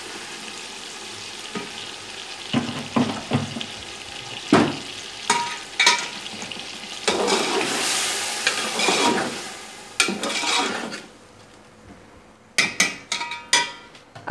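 Biryani masala, dried plums and tomato paste frying in a pot: a soft continuous sizzle under repeated stirring and scraping strokes, with sharper spoon knocks against the pot toward the end.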